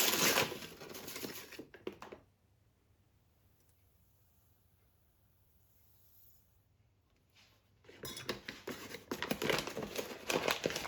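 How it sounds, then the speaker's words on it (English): Granulated sugar, one cup from a half-cup measure, pours into a pot for homemade cranberry sauce, giving a dry crinkling, rustling hiss near the mic in two bursts separated by a quiet pause. "Let's start by adding 1 cup of sugar to the pot."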